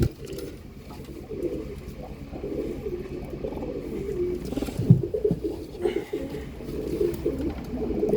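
Pigeons of a prized breed cooing softly and repeatedly in a loft, low murmuring calls running throughout with a slightly louder coo near the middle.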